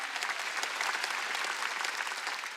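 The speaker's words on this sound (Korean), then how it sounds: "박수야." A church congregation claps together during a Wednesday worship service, a dense, even burst of many hands close by with no voices on top.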